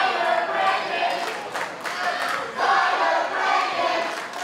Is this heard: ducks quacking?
no